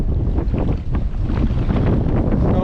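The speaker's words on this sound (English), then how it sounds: "It's extremely windy here." Strong, gusty wind at a beach during lure fishing buffets the microphone in a constant loud roar and rumble, with a faint wash of water underneath and no voices.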